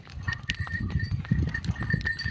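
Cows and buffaloes walk through a wet farm field after overnight rain, their hooves thudding and splashing in an irregular, close shuffle of steps, with no voices.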